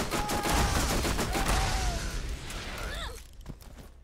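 Rapid video game gunfire, a dense loud burst of overlapping shots and clattering for a few seconds that fades out, followed by a quieter tail with a few sharp sounds.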